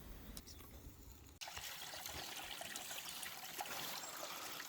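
Mountain water trickles into a small collector tub where it settles, a close, steady dribbling stream with a brief pause early on, no voices.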